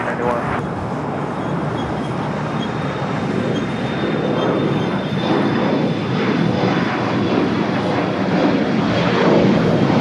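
An airliner takes off from runway 25 Right at Los Angeles International Airport, its engines making a loud, steady roar that builds slightly toward the end and masks everything else.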